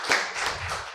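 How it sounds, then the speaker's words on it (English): Applause from a live podcast audience with guest comedian Michael Blackson: brief, moderately loud clapping that swells near the start and settles into steady, dense hand claps for about a second. "Clap your hands for these guys because they paved the way for me to be here."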